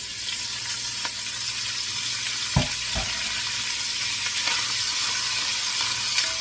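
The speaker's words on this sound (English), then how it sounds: "I'm just going to brown this in this oil." A pound of smoked andouille sausage browns in hot oil in a pot, giving a steady, quiet sizzle throughout, broken by a couple of sharp clacks of a utensil near the middle.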